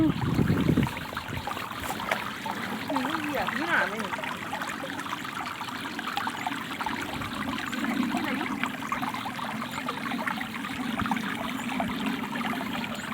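A rain-swollen stream beside green rice fields runs in a steady, close rushing trickle throughout, with a brief burst of talk near the start.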